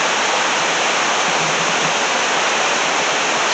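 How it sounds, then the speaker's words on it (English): A stream of water flowing around a small island, a loud, steady, broadband rush of moving water that holds constant from start to finish with no voices. "The stream runs right around that."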